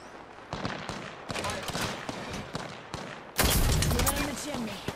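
Rapid bursts of gunfire in Apex Legends crackle in quick succession, growing louder and denser toward the end, with voices talking underneath.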